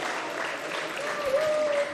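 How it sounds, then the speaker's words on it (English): A crowd at a women's football match in Springfield, Jersey, gives steady, moderately distant applause as an injured player gets back on her feet; no voices stand out. "she gets a round of applause as she's back on her feet"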